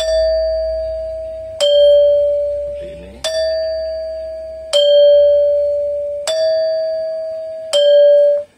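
Balinese gangsa metallophone struck slowly, six bright ringing bronze notes at an even unhurried pace, each sustained before the next with a short spoken phrase in between.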